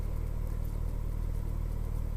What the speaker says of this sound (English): the bike's running beautifully at sort of ordinary road speeds